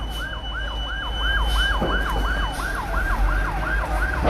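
Fire engine sirens wail loudly and continuously in a fast rising-and-falling cycle as crews arrive at a burning foam factory, with steady traffic and outdoor noise underneath.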